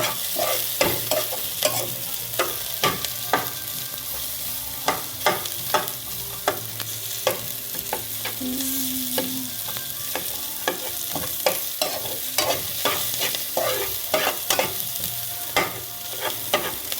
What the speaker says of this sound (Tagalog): yung ginigisa niya. Luya, sibuyas, bawang.